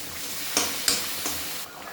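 Masala sizzles and fries in a pan for a paneer curry made without onion or garlic, a close, steady hiss broken by a few brief crackling spurts.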